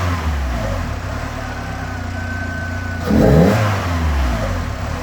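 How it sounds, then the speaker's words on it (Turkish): A Tofaş car engine with a new throttle pedal position sensor and an open air filter drones steadily, then revs up briefly at full throttle before settling back to a rumbling idle, close and loud with no talk. "Gene dip gaz yapıyorum şu an yapmıyor."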